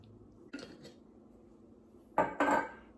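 Jar of roasted garlic Alfredo sauce dumped into spinach artichoke dip, with two short clinking, scraping bursts of glass against a dish, the second louder and longer, over quiet kitchen room tone.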